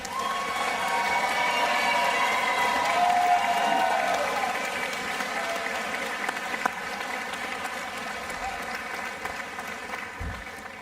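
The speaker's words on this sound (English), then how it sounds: "Let's give one more round of applause for these amazing art students" Sustained applause from a university commencement audience honoring art graduates, steady and broad throughout, tapering slightly near the end, with some cheering mixed in.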